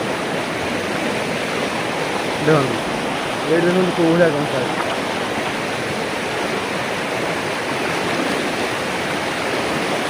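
Large volume of water rushing through a village, a steady loud broadband roar filling the whole clip, with brief voices talking over it in the middle.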